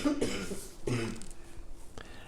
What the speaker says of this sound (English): see, she's coughing